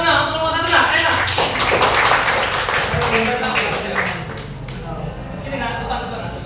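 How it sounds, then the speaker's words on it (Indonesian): A classroom of students claps for group 1 after a presentation, a dense patter of many hands for several seconds that fades out, with voices talking over it. "Ayo, tepuk tangan nah, untuk kelompok 1 nah, ayo nah."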